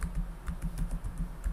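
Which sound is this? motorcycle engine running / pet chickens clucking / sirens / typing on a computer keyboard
typing on a computer keyboard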